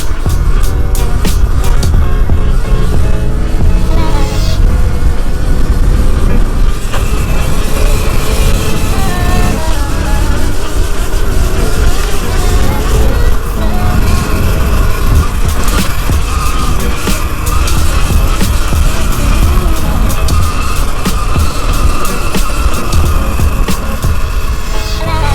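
Surron Ultra Bee electric dirt bike ridden hard with no tyre on one wheel, a loud continuous motor whine and drivetrain roar with tyre scrabble and wind buffeting, steady and close throughout.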